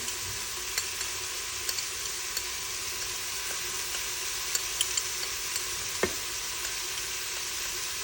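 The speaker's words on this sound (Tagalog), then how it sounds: "add ko na itong ginger at garlic. I-mix ko lang siya." Ginger and garlic sizzle steadily in a pan while being stirred, with faint scrapes and clicks of the utensil over a constant frying hiss.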